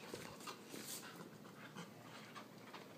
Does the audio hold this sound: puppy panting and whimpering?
yes